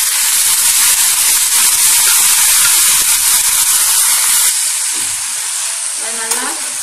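Ponnanganni greens sauté in a hot pan with a loud, continuous hiss that eases off slightly toward the end, close and steady with no voices.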